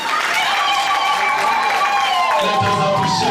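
Audience applause at a tech and innovation event on food security and rural development, a steady dense wash of clapping from the crowd mixed with talking voices throughout.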